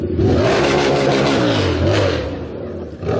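A car engine revs hard with a rising, roaring exhaust note that swells and dips twice before settling, loud and close with no talk over it.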